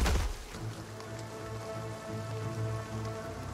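Steady rain pattering on surfaces in the Project Zomboid video game, a continuous close hiss of drops with a low rumbling undertone, no voices.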